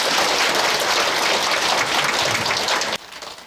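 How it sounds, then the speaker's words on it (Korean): An audience applauds the 104 mixed choir at a Buddhist dharma assembly: dense, steady clapping fills the hall for three seconds, then drops sharply to a thinner, fading patter. "오늘 혼성합창단으로 처음 여러분 앞에 선보인 104 혼성합창단 큰 박수 부탁드리겠습니다."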